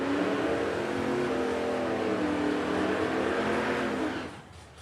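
Drag race cars launch at Rad Torque Raceway during the Oil City Classic in Edmonton, one a '71 Nova. A loud, dense engine roar holds steady for several seconds, then fades sharply at the end.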